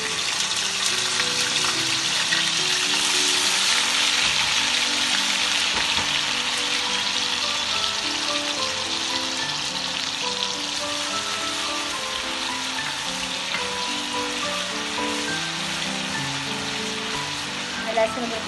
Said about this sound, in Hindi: लहसुन अदरक को थोड़ा सा भून लूँगी।